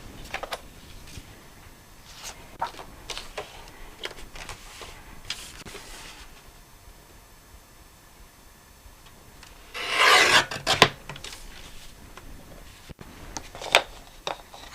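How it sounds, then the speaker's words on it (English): Material being trimmed to size for a ScanNCut cutting machine, giving soft scattered rasping and rubbing strokes, then a louder burst of cutting near the end, close and fairly quiet, no voices. "So I'm just trimming it to 7 centimetres."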